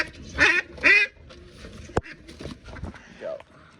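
Frightened domestic ducks quacking up close, two loud bursts followed by scattered softer calls and a sharp knock, with a voice talking in between.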